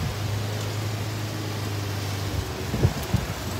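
Gusts of wind blow steadily across an outdoor yard, a broad rushing hiss with a low rumble that sputters and swells in a couple of bursts near the end.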